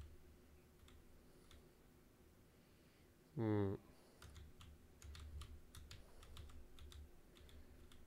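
Quiet computer keyboard typing clicks away in short irregular bursts, faint and close, with a brief louder voice-like tone cutting in partway through.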